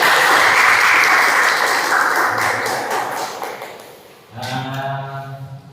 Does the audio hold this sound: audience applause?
yes